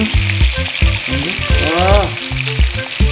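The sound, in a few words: katla fish frying in oil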